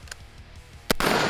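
A gunshot rings out at a steel target, a sharp loud crack near the end followed by a bright lingering ring, with a fainter earlier pop.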